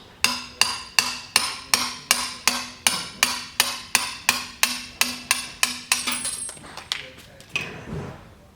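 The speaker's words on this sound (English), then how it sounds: "Next step is to remove the roll pin securing the handle axle" A hammer strikes a punch about fifteen times at an even, brisk pace to drive the roll pin out of a Crown pallet jack handle axle. Each blow rings with a sharp metallic clank, and a few scattered, lighter knocks follow.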